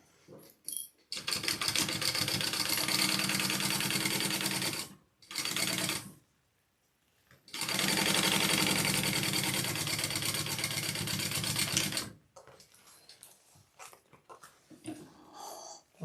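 A sewing machine runs basting stitches in two long continuous bursts of fast, even mechanical whirring, separated by short pauses and followed by faint background sounds.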